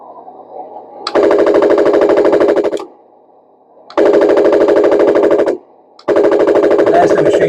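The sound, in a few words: Henglong M26 Pershing RC tank machine gun sound effect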